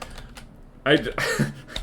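Typing on a computer keyboard during a game session, a few soft clicks at first, then a short burst of keystrokes mixed with a man's speech.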